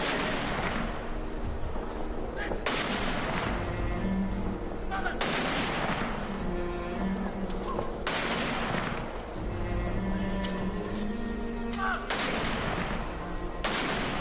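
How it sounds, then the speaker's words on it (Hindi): Ceremonial 21-gun cannon salute at the state funeral of General Bipin Rawat: five heavy booms spaced about every two and a half seconds, each with a long rolling echo over a low background murmur. "जनरल बिपिन रावत को 21 तोपों की सलामी दी गई।"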